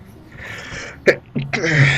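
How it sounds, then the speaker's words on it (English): A single quick sneeze from a person playing Portal 2, a sharp burst at close range followed by a short vocal sound and then soft talking. "Sorry, that was me sneezing."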